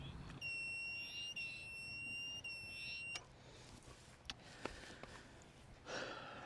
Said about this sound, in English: inverter's giving me a low voltage alarm